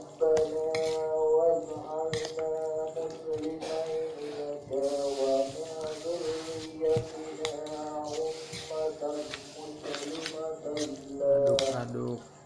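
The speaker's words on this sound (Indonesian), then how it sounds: "Aduk-aduk sampai merata biar enggak asin." Spicy fried instant noodles (mie goreng) being stirred in a dish, giving irregular clinks and wet squishes of utensil against the bowl under a voice that talks throughout.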